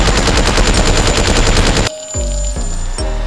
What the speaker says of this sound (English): Blasting zone, you just basically just keep shooting.